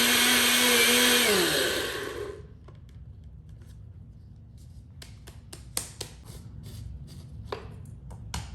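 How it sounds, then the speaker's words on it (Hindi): A kitchen grinder whirs loudly as it grinds cooled homemade caramel into powder, the motor running steadily for about two seconds and then winding down. Scattered clicks and light taps follow as the jar settles. "अब हम इसको ग्राइंड करेंगे।"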